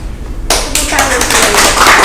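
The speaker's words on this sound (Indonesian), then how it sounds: "Tepuk tangan semuanya." An audience at a special podcast episode bursts into loud clapping and tapping after a brief pause, lively and close, with voices mixed in.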